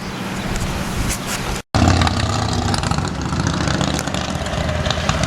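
A couple of bikes roll past a home garden, a steady broadband whoosh of passing traffic with one brief dropout.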